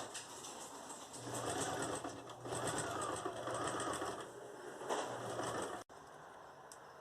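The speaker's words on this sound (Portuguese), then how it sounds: "Vou levar na máquina de costura" A sewing machine runs continuously, stitching fabric for a bee doll costume. It makes a steady, close mechanical whir with a rapid rhythmic hum, then cuts off sharply near the end.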